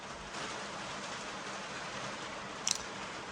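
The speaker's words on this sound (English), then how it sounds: "sorry about the rain again. Bloody poured it down all day." Rain pours steadily outside a workshop during a Makita angle grinder repair, a constant even hiss of heavy rainfall with a brief sharp knock near the end.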